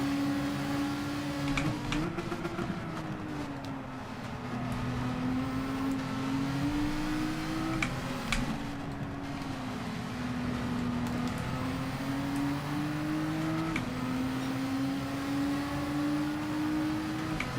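A Group 4 race car in Gran Turismo 7 at the Nürburgring GP, its engine droning steadily and rising and falling with gear shifts, loud and sustained with no talking.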